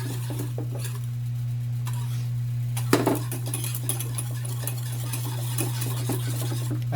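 A mixture being stirred in a pot on the heat, with soft scraping and clinks of a utensil against the pot over a steady low hum, plus one sharper knock.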